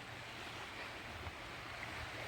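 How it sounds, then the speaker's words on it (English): Steady broadband wash of water at Frontenac State Park, a constant rushing hiss with low rumble and some wind noise on the microphone, unbroken and moderately loud with no voices. "Yeah, I can hear the water."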